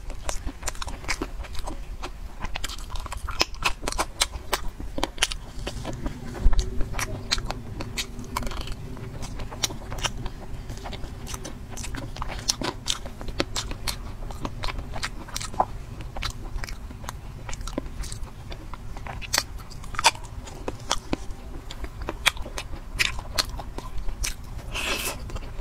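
Crunchy candy bitten and chewed close up, a steady stream of sharp crackling crunches going on throughout with no pauses.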